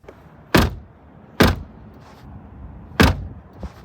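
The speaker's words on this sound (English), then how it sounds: "This has typical German engineering door thunk." Three solid, muffled door thunks from a 2023 Toyota Supra at uneven intervals, close by, each a short heavy thud with faint rattles and shuffling between them.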